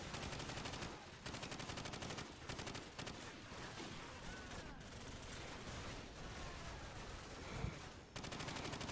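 Call of Duty 4: Modern Warfare gameplay with loud, sustained automatic gunfire in rapid bursts, pausing briefly between volleys, dense and close throughout.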